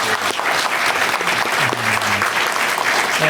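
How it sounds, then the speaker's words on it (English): Dense, steady applause from an audience honoring Chairwoman Kim at an Asian-American and Pacific Islander Heritage Month event, filling the whole stretch at an even, fairly loud level. "let's give her a round of applause"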